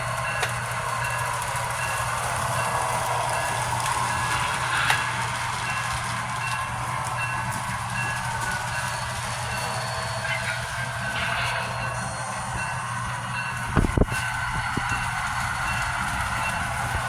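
Continuous rumbling clatter of a small train running along track, with a steady mechanical hum and a brief louder clunk near the end.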